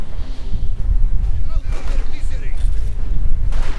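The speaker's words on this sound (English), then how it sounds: "the Panzer Grenadiers continue to just lay down a murderous barrage of bullets" Sustained gunfire from Panzer Grenadiers in the Company of Heroes 2 strategy game, a dense crackling barrage with distant booms that continues throughout, with a commentator talking over the battle.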